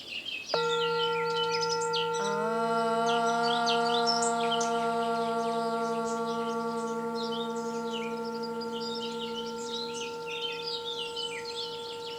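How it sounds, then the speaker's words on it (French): Small birds chirp and twitter outdoors in quick, scattered bursts throughout, fairly clear but partly under a loud sustained tonal drone with several steady pitches that starts abruptly and fades slowly. "au pire vous entendez les oiseaux"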